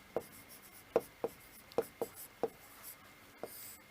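A pen writes a note in quiet, close, distinct scratchy strokes, about seven of them at an uneven pace, with no voices.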